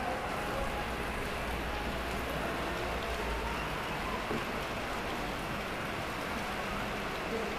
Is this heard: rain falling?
yes